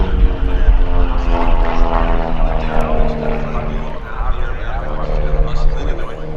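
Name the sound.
aerobatic airplane engine at an airshow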